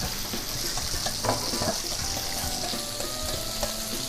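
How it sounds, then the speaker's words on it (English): Sauce with fresh cilantro and scallions being mixed for tossing fries: a faint, continuous wet churning with a sizzle-like hiss and small liquid clicks, without talk. "Now we're going to blend this up"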